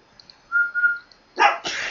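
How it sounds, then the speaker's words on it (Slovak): A person whistles at a dog in two short, clear tonal bursts, followed at once by a couple of loud, close dog barks. "On na ňo pískaš."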